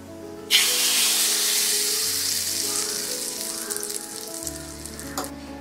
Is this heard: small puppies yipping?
no